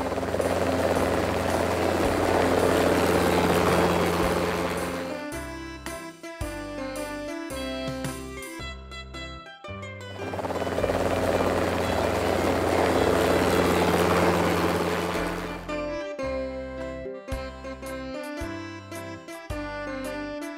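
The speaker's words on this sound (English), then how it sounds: "Helicopter." A toy Paw Patrol helicopter's whirring rotor buzz alternates with a bright electronic jingle, the two sections repeating twice, loud and close with no talking.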